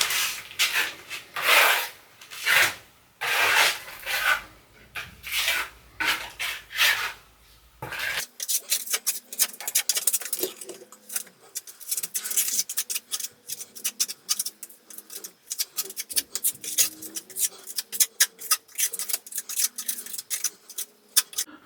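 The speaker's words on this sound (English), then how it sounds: "cover it with a finishing plaster and just try to smooth everything out" Trowel scraping finishing plaster across an apartment utility room wall, with repeated rough rasping strokes in bursts, then a faster run of lighter, ticking scrapes, loud and close with no voices.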